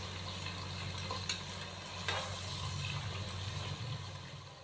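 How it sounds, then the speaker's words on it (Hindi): Chicken browning in a pan with ginger-garlic paste for a chicken matar pulao, giving a steady close sizzle with a couple of brief stirring scrapes and a low hum underneath, no talking. "हम चिकन की भुनाई कर लेंगे 4 से 5 मिनट के लिए, ताकि अदरक और लहसुन के पेस्ट के साथ ही चिकन की भी अच्छी तरह भुनाई हो जाए"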